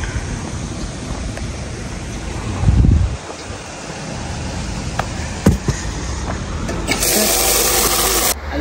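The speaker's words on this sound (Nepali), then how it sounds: "पानीको धार कस्तो राम्रो।" Steady rushing of a flowing stream of water outdoors in Korea, continuous broadband wash with a brief louder surge near the start and a brighter hiss toward the end, no voices.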